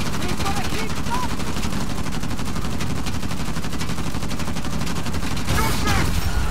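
Rapid sustained gunfire from the Uncharted: The Lost Legacy video game, dense overlapping bursts of automatic fire that continue throughout with a louder flurry near the end.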